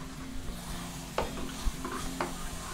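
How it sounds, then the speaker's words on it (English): Homemade curry powder spices toasting in a hot pan: a soft, continuous sizzle under a few distinct scraping stirs of a utensil against the pan, heard up close. "you can smell all those spices toasting up nicely"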